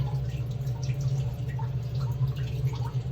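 Water draining and trickling through a screen during paper leaf casting, a steady low gurgle with faint drips, close and continuous throughout.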